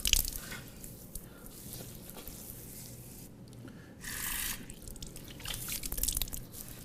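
Water splashed onto the face during ablution washing, with soft wet dripping and squishing and a brief brighter splash midway, all quiet and close.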